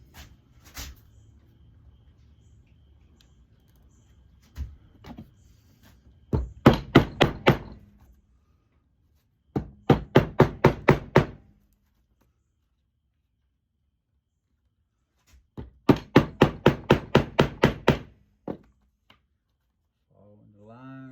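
Stitching forks hammered through a leather sheath to punch stitching holes, heard as three close, loud bursts of rapid, evenly spaced sharp taps, each lasting a couple of seconds, separated by quiet pauses.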